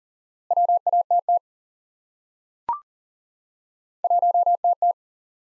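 Morse code CW tone sending a single element repeated: two bursts of steady, evenly spaced beeps at a medium pitch, separated by a long silence broken by one brief blip, clean with no background noise.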